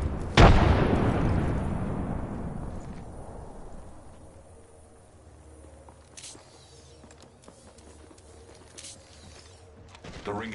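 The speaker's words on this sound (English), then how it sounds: "Contact with enemy. Delivering frag." A frag grenade detonates in Apex Legends with a sharp, loud blast whose rumbling tail decays over several seconds, followed by faint scattered footsteps and small impacts before a second burst at the end.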